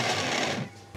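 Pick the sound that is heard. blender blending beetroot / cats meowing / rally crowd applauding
blender blending beetroot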